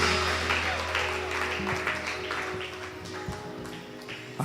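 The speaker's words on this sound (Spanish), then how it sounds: "Fuerte ese aplauso de bienvenida a la familia del Señor." A church congregation gives a welcoming round of applause, a moderate sustained patter of many hands in a reverberant hall, with a low hum underneath.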